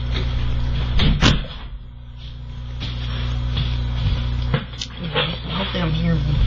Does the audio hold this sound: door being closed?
yes